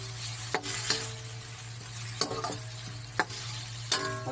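Chutney ingredients sizzle steadily in a pan while a spoon stirs them, with several sharp scraping strokes spaced through the steady frying hiss, close and moderately loud, no talking.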